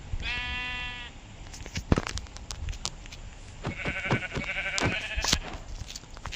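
Sheep bleating in the Minecraft video game, two separate calls with a clear harmonic stack, one early and one later in the clip, each lasting about a second. They come over soft background game sounds and a few sharp clicks.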